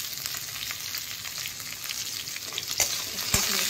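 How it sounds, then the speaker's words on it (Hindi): Coriander fries in hot oil with potatoes in a pan for an Indian veg sandwich filling, a steady close hiss and sizzle with a few sharper pops near the end. "इसमें धनिया को डाल देंगे और भूनेंगे"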